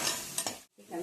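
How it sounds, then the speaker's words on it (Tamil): Raw chicken pieces dropped into a hot pan of oil for a Kongunadu-style chicken curry, giving a steady crackling sizzle with a couple of stirring bumps, a brief pause, then the frying resumes close by. "சிக்கன் போடுறேன்."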